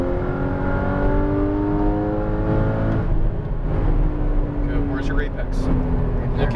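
A Porsche Cayman GTS accelerates hard out of a track corner, its engine note climbing steadily through rising revs and then dropping away, loud and close from on board, with a driving instructor talking over it.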